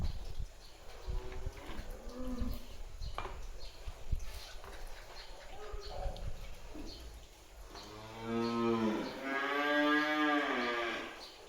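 A dairy cow on a dairy farm in Solok, West Sumatra, lets out a long, loud, close moo near the end, following quieter lowing and general barn noise.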